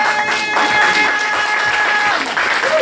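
A church congregation applauding, a loud sustained wash of clapping from many hands, with a voice speaking over it.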